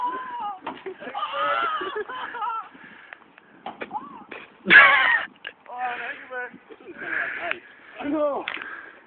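Crows caw repeatedly in harsh, ragged bursts, loud and close, some calls overlapping as the birds squabble, with a sharp louder outburst partway through.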